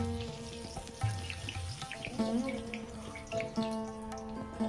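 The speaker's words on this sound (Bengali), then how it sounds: "বাকি যে মাছটা আছে আর এক পিস সেটা এবার এই তেলের মধ্যেই ভেজে নেব" Koi fish frying in hot oil for a Bengali tel koi curry, a steady crackling sizzle heard close under a continuous musical tone, with no talking.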